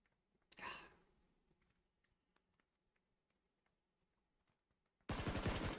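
Gunfire from a battle royale video game, with a loud burst near the start that fades out, quiet faint ticks in between, and another loud sustained burst of shots at the end.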